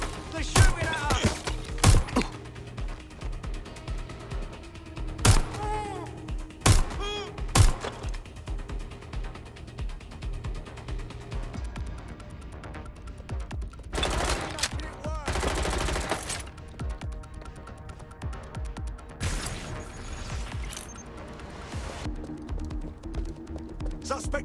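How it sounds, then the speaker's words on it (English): Gunfire in the video game Watch Dogs Legion bursts out in loud, close shots and rapid volleys, with several sharp single cracks early on and a longer fusillade midway, while voices shout over the fighting. "They're shooting at us!"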